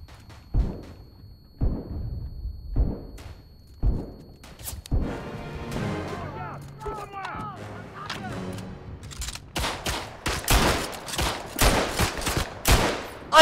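Gunfire in the World War I shooter Verdun: a few separate shots early, then a stretch with a voice talking, then dense rapid bursts of rifle and machine-gun fire close and loud.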